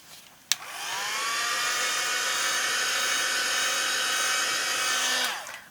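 A hair dryer blows steadily on a wet watercolor pumpkin painting, clicking on and then running loud and constant for about five seconds before shutting off.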